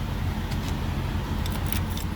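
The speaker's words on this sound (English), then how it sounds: "Well, there go my keys." Keys jangle in a few quick metallic clinks inside a truck cab, heard over a low, constant engine rumble.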